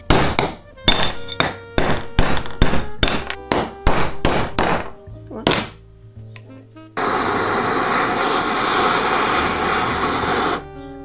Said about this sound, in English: to remove the bearings, you just beat them out with a hammer